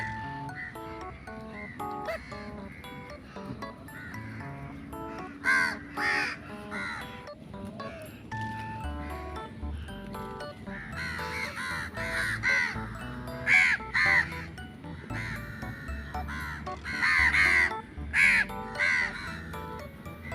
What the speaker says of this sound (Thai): พวกกาพวกนกก็มีคนให้อาหารอยู่นะคะ